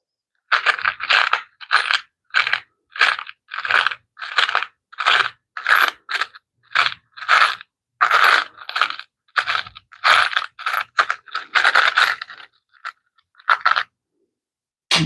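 Small metal screws clatter and jingle in a box as a hand rummages through them, producing a steady string of short, crisp rattling bursts close up with brief gaps between them.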